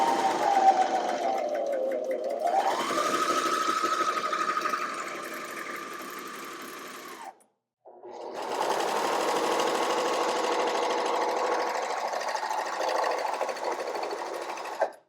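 A serger sewing machine, Brother or BabyLock, stitching fabric in two sustained whirring runs separated by a short pause, steady and close with a faint pitch shift as it starts.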